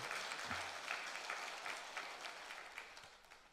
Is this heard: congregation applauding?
yes